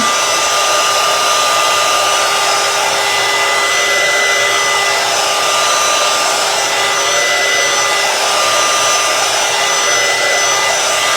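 A hair dryer blows on fresh paint on a DIY door hanger sign, its steady airy whir running loud and unbroken throughout with no talking.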